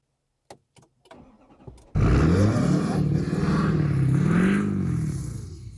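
A GMC Denali 3500 truck's engine cranks briefly, then catches with a loud start and revs up, holding a strong, rising and falling roar up close for several seconds before easing slightly.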